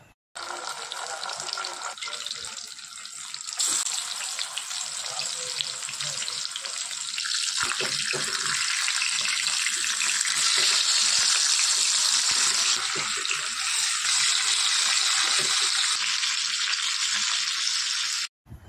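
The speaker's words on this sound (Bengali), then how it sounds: "তেল গরম হয়ে গেলে আমি এক এক করে মাছগুলোকে ভেজে নেব" Pomfret pieces rubbed with salt and turmeric sizzle in hot mustard oil, a loud, steady hissing crackle that swells after a quieter start and runs unbroken for most of the time, with no talk.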